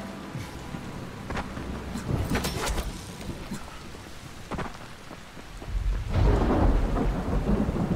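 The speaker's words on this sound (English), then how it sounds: "The thunder." Thunder rumbles and cracks over steady rain in the video game Dying Light, with several loud rolling peaks and a heavy, close thunderclap near the end, rain hissing continuously underneath.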